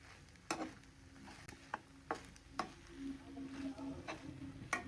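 Masala being stirred into noodles in a pan, a few sharp spoon knocks against the pan over soft scraping and faint sizzle, close and quiet.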